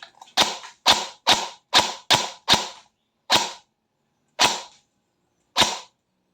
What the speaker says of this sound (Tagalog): subukan natin yung semi.